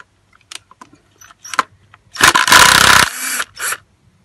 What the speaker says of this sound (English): If you've got a little impact driver, it makes life so much easier than struggling with stuff.